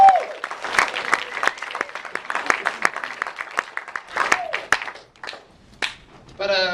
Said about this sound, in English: You guys should clap for your feature